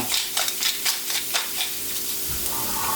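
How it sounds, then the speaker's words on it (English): Pumpkin, black pepper and spices stirred quickly in a hot pot: a soft, steady sizzle with a few light scraping strokes in an uneven rhythm, close by, with no talking. "another quick stir"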